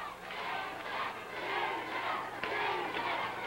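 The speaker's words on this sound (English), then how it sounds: "the crowd cheering him on." A wrestling crowd cheers and roars continuously in an arena, a loud, dense wall of voices that swells and dips slightly without a break.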